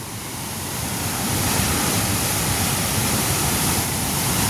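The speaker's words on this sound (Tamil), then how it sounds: "சுனாமி எப்படி வருமோ அதே மாதிரி குளத்துலேருந்து தண்ணி வந்து கொண்டிருக்கும்" Floodwater gushes out of a village pond with a loud, steady roar of rushing water that holds unbroken for several seconds, with no voices.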